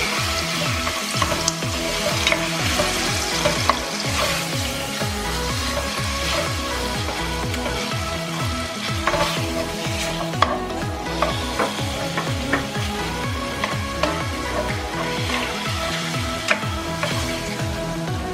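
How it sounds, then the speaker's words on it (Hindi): Chicken pieces frying and being stirred in a pan for desi-style Singaporean rice: a continuous close sizzle broken by steady, repeated scraping strokes of a spatula, with no voices. "अब इसके अंदर चिकन डाल देंगे।"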